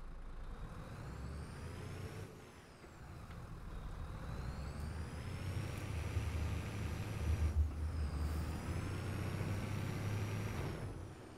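A tractor engine in Farming Simulator 22, steady low rumble that rises in pitch as it accelerates, with whining gear tones sweeping upward and a brief pause near the start, moderately loud and without talk.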